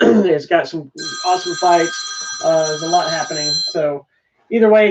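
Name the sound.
phone ringing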